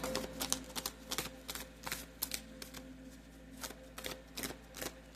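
Tarot cards riffle and slap in quick, uneven bursts, a crisp flurry of shuffling repeated several times at close range.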